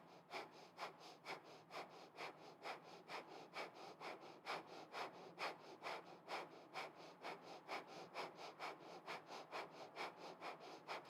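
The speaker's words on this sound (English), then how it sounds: "It's going to be really rapid, about 2 or 3 breaths per second, okay?" Rapid, forceful kundalini breathwork, with sharp nasal breaths pumping evenly at about two to three per second. The breaths are close, steady and rhythmic for the whole stretch, with no voice over them.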